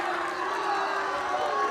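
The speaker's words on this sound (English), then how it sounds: "Oh, the crowd didn't like that." Crowd at a girls water polo match between ECHS and OHS giving a steady, sustained disapproving roar, with a commentator talking over it.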